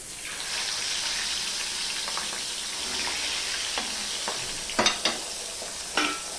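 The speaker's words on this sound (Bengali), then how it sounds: "আমি এইভাবে অল্প ঢেকে ঢেকে মাছটা ভেজে নেব" Pabda fish frying in oil in a partly covered pan over a medium-low gas flame gives a steady, close sizzling hiss, with a few sharper spits and pan clinks near the end.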